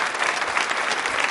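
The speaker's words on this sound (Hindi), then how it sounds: "तालियां तो जोर से बजनी चाहिए" A women's club audience at a university quiz show for International Women's Day breaks into brisk applause, a dense, even burst of clapping lasting just over a second.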